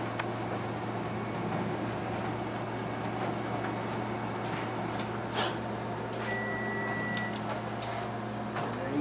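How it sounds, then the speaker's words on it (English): A Konica Minolta Bizhub C353 colour multifunction copier draws test copies through its document feeder, a steady mechanical hum with soft whirring, light clicks and brief sliding rattles of paper moving through the machine. "there we have our test copies through the feeder"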